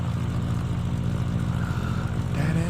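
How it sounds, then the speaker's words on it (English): The engine of a plane in a pixel-art flight sim video game drones steadily for a couple of seconds. The tone is a fairly loud, even mid-pitched hum with no talking. "That engine sound."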